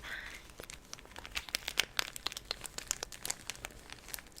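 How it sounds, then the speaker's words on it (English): Close, crisp crinkling of a Japanese squidball snack bag: a rapid run of sharp plastic crackles and rustles, quiet and intimate, with no talking. "I love the way that a crinkling bag sounds."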